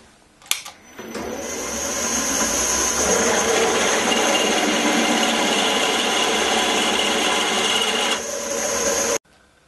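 A 30mm rescued steel bar being drilled out after centre popping, a steady loud machine drone with a grinding, scraping edge that runs unbroken for about eight seconds before stopping abruptly.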